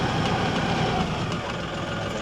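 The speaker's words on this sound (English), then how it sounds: "I'll bring the tractor around here, pull beside this, and then hook into that." A tractor engine runs steadily at close range, giving a low, even rumble with no talking.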